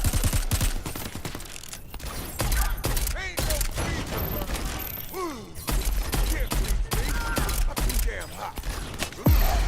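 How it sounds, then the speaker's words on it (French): Gunfire in the Crackdown 3 video game comes as rapid bursts of shots with mechanical clanks and whooshing effects, loud and dense, under game sounds. "On va essayer le gun pour voir"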